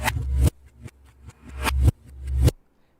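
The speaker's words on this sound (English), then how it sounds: "since I was using some cajon samples for the beat, this is just some sample I got from Splice, and then I flipped it in reverse" A reversed cajon sample swells up three or four times, each hit building from near silence to a loud low thump that cuts off abruptly, in a steady sucking-back pulse.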